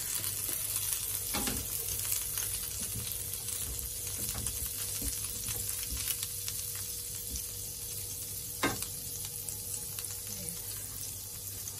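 A beef burger patty fries in butter in a pan, giving a steady, fairly quiet sizzle with a few soft clicks and clanks from handling, and no talking.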